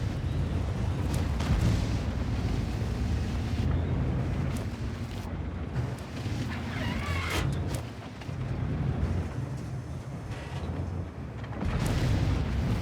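Tank cannon shots in a WNX Coccodrillo tank game battle on Redshire: a continuous roar of booming fire and rumbling explosions, dense and loud throughout with no clear gaps.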